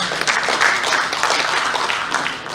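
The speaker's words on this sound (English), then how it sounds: "round of applause" An audience at a CashFx Malaysia event applauds with a dense, continuous patter of many hands, fairly loud and steady throughout, fading slightly at the end.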